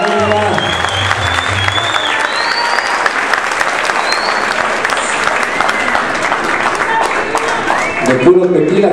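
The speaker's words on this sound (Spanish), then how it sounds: "queremos pedirles como siempre un aplauso para don Jesús Rodríguez de Ita y la doctora Alexi Garriga" Audience applause at a mariachi concert in Guadalajara, dense sustained clapping from a large crowd filling the whole stretch, loud and close, with voices mixed in and a brief lull near the end.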